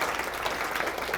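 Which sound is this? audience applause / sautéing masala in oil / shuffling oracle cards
audience applause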